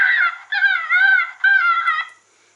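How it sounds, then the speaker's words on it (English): An electronic predator call plays a recorded gray fox distress cry: three wavering, high-pitched yelping wails in quick succession, loud and close, with no talking. "the next one is a gray fox in distress."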